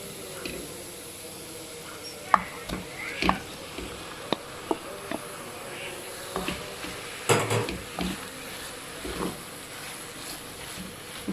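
Half a kilo of minced meat sautéing with onion in a pan, soft steady sizzle with scattered clinks and scrapes of a spoon stirring, close and fairly quiet.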